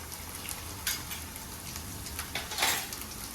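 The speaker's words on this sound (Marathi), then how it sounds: "चांगलं परतवून घ्यायचं आहे" Crab masala with turmeric sizzling as it is sautéed in a pan, a soft steady frying hiss punctuated by a few brief louder crackles and stirring scrapes, quiet and close.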